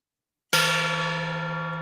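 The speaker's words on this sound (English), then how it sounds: "Why do you have a gong?" A gong struck once after silence, a sudden loud clang followed by a steady ringing hum that fades slowly.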